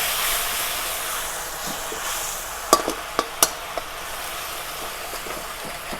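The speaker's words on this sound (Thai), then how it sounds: "เคี่ยวไปเรื่อยๆพี่น้อง" Sweet-sour-salty sauce with fish sauce for Thai son-in-law eggs simmers steadily in a pan, giving a constant soft hiss with a few sharp bubbling pops and crackles in the middle.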